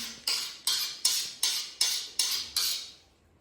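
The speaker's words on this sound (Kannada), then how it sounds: "ಉಳ್ಳಾಗಡ್ಡಿ, ಟೊಮೊಟೊ, ಉಳ್ಳಾಗಡ್ಡಿ, ಮೆಣಸಿನ್ಕಾಯಿ ಕ್ಯೂಬ್ ಮಾಡಾಕ್ತ ನೋಡಿ" A knife chops onion, tomato and chilli into cubes on a board, giving seven crisp, evenly spaced cuts up close, then trailing off into quiet.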